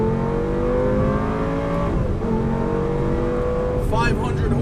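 A 2004 Lamborghini Gallardo in sport mode with traction control off, accelerating hard on a race track road course, its engine rising steadily through the revs and dropping briefly on a gear change, with a rider talking over the engine.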